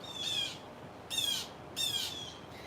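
Birds call outdoors in three separate bursts of high, chirping song, each about half a second long and moderately clear against a quiet background.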